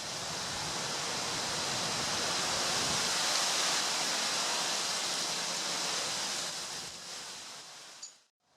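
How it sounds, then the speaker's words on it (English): A creek flows below a railway line near Zumbrota, Minnesota, giving a steady broadband rush of water that holds at even loudness before cutting off at the end. "It's the creek down there."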